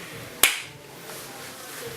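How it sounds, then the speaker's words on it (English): A single sharp hand clap marks the start of a recording, loud and close, followed by a short room decay over faint background hiss. "Rolling, please clap."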